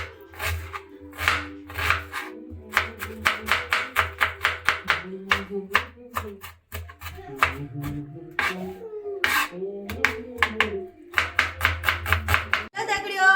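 A knife chops onion, fenugreek and tomato on a board in a home kitchen, a long run of quick, close, crisp cuts in bursts with short pauses.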